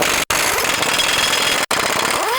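Impact wrench with a 27mm socket loosening the U-bolts on a 2020+ GM 2500 pickup, a loud, rapid hammering burst that runs nearly continuously, broken by two very short pauses.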